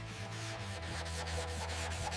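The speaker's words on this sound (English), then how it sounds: "We have to smooth out the pits left by the rust." Rhythmic back-and-forth sanding of rust-pitted Kawasaki 250 motorcycle bodywork, a steady gritty scraping with regular strokes about every quarter second, close and continuous.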